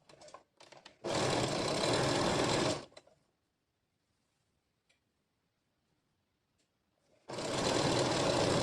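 A sewing machine stitches a 0.7 mm seam on a bodysuit in two sharp, loud bursts separated by a long quiet pause, with a few light clicks and handling taps around them.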